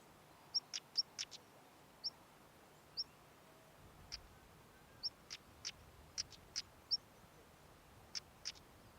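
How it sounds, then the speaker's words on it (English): Young whinchats call for food, giving repeated short, high chirps in a scattered rhythm, faint and fairly distant over a quiet outdoor background. "Young whinchats are calling for food to their parents."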